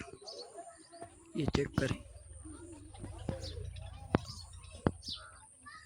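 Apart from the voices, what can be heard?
pigeons arriving and cooing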